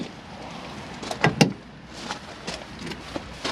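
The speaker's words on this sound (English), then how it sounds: "and then opening the back doors" Rear doors of a 2017 Rock N Roll camper van being opened, with a latch clunk and a couple of sharp mechanical knocks around the midpoint, then softer thuds and rattles as the doors swing open nearby.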